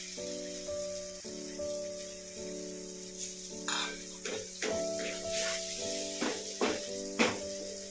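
Eggs poured into a hot pan for egg curry dosa hiss and sizzle steadily, with sharp bursts of crackle and scraping stirs building in the second half, close and fairly quiet, no talk.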